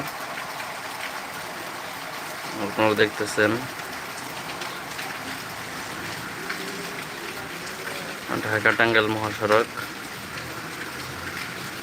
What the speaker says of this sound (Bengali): প্রচন্ড বৃষ্টি বৃষ্টির মধ্যে প্রচুর গাড়ি চলতেছে